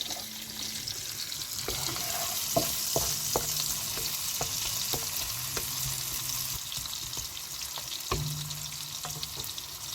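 Onions frying in a pan, a steady sizzle under repeated scraping and knocking from a wooden spatula stirring them, close by, no voices.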